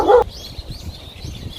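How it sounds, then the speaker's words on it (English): A dog gives one short, loud bark at the start, followed by faint, thin whimpering sounds. "This is the dog."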